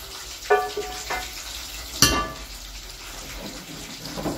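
Chicken pieces frying in a pan for a home-style stir-fry, with a steady hiss of sizzling oil, a few brief clatters and a sharp clank near the middle, close and fairly loud with no talking.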